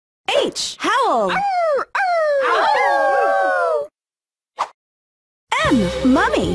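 Cartoon dogs howling in a children's Halloween alphabet show, several rising and falling wavering howls and yips in close bursts with short silences between, some overlapping, ending in a whimpering howl.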